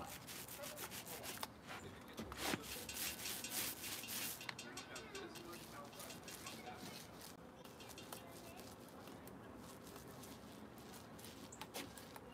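A paintbrush rubs and drags across wooden planters, a steady soft scraping texture that runs throughout at close range, with outdoor background noise around it.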